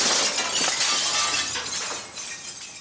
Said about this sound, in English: As one man was spraying, another was knocking out windows